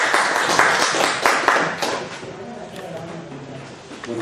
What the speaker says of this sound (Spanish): hay que recibir con fuertes aplausos a nuestro primer ponente, que es Benjamín Covarrubias.